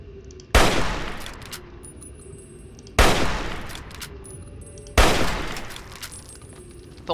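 Enemy gunfire in Fallout 3 comes as three loud, sharp bursts roughly two seconds apart, each decaying with a ringing tail over a quiet game soundscape.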